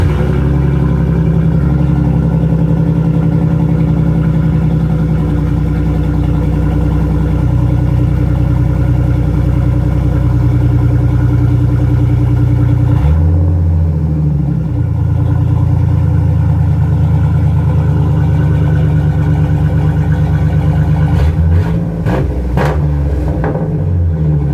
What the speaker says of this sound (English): how about a little cold start?